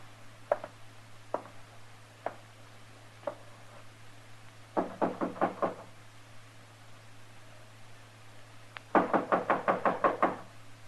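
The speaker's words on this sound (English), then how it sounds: "All right, knock on the door." Knocking on a wooden door as a radio drama sound effect: a few sparse single knocks, then a quick burst of about six raps, and later a louder run of eight or nine firm knocks, close and clear over a low hum.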